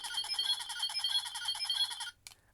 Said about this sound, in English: which is sort of an alarm, so that's kind of cool